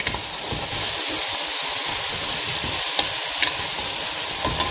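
Onions frying in a pan while being stirred, a steady close sizzle with soft scraping through the stirring, no voices.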